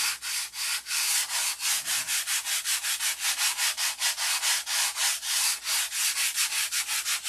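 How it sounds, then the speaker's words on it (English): Rhythmic back-and-forth sanding strokes on a car panel, loud and close, repeating steadily at a brisk, even pace with no voices. "I've been sanding all day."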